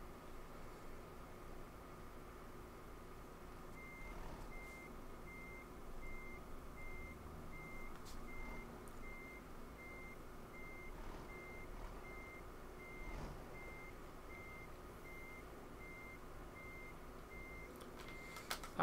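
A truck's reversing alarm in Euro Truck Simulator 2, beeping in a steady, evenly spaced rhythm over a low engine rumble as the truck backs up to drop off its trailer, fairly faint.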